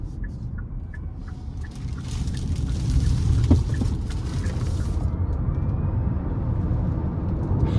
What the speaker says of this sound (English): I'm gonna give it some power coming out of this corner here.